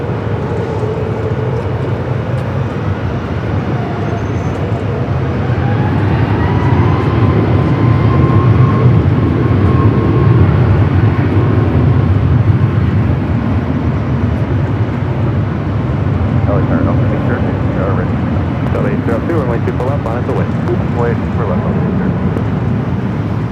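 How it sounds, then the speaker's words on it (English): A Singapore Airlines Boeing 777-300ER arrives at LAX on the north side, its deep, continuous engine rumble filling the air with a slowly sliding whine on top, loud and fairly near, steady throughout. "We also have Singapore, the 777-300ER, heading here to the north side."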